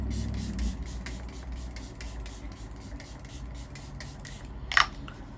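Rapid short spritzes from a makeup setting spray bottle repeat in a quick rhythm, close by, with a louder bump near the end.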